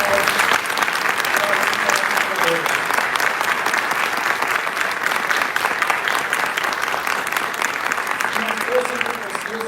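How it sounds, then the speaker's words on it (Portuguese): Sustained audience applause at a live anniversary event for Outward Bound Brasil, dense and loud clapping from a large crowd that holds steady throughout, with some voices faintly mixed in. "Eu gostaria de uma salva de palmas."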